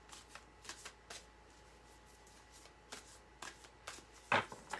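A deck of animal picture cards is shuffled by hand close up, a series of quick riffling flicks and soft slaps in irregular bursts, with one sharper snap near the end and no talking.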